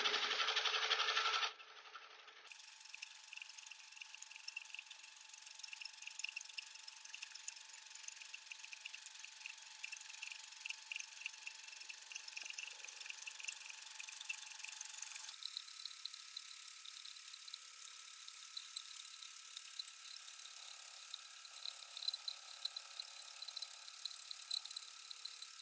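A longarm quilting machine running at about 700 in manual mode, stitching scribble zigzags: a steady, continuous mechanical whir with fine rapid ticking, shifting pitch twice, heard alone and fairly quiet.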